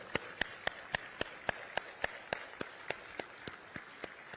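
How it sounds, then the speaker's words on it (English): Steady, evenly paced clapping, roughly fifteen sharp claps in a row, fairly close and alone with no voices. "round of applause."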